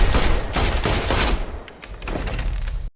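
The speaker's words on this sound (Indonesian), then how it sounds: "Tanpa ragu, ia mengangkat pistol dan menembakkan peluru tepat ke arah Lucy." Pistol gunshots in a scene from the film Lucy, a rapid series of loud, sharp bursts with echoing tails and no talking.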